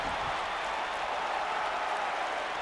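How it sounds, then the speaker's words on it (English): A wrestling arena crowd in the WWE 2K19 video game roars in a steady, dense wash of cheering and applause from a large audience, continuous and fairly loud throughout. "And Finn Baszler with the crowd behind him here in Ohio."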